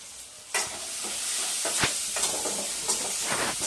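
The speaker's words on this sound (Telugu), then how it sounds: "ఈ చేపలకి అల్లం వెల్లుల్లి పేస్ట్ మంచిగా పట్టేలాగా ఫ్రై చేసుకొని" Dried fish frying in hot oil with ginger garlic paste, a steady loud sizzle and hiss with a few sharp pops and spatula scrapes as it is stirred, no voices.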